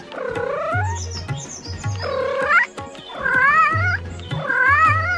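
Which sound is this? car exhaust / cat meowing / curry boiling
cat meowing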